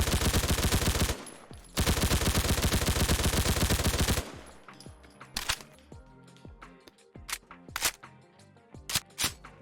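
PPS-43 submachine gun in a modded Fallout 4 firing fully automatic, two long rapid bursts of rattling gunfire separated by a short gap, followed by scattered single sharp shots and clicks.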